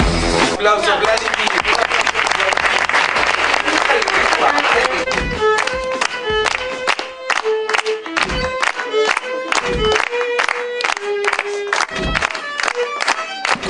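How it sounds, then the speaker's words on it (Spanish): An audience claps at the opening ceremony of a 2015 school knowledge olympiad, a full burst for about five seconds that gives way to a voice and musical tones. "Aplauso, Vladimir."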